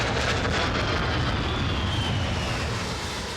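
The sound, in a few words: Royal Navy fighter jets flying in to land on a warship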